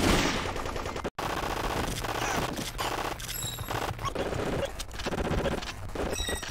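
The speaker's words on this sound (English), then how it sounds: "you can still shoot through the windows of the limo" Rapid automatic gunfire from the VIP video game, shooting at a limousine through its windows, with dense bursts of shots filling the scene and a brief silent gap near the start.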